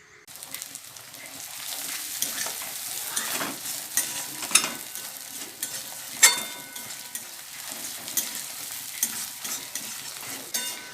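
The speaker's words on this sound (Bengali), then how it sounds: "চলো দেখি দাদা কীভাবে মশলাটা কষে।" Ground ginger, chilli and cumin masala frying in a pan, a continuous close sizzle broken by repeated scrapes and taps of a spatula being stirred through the paste.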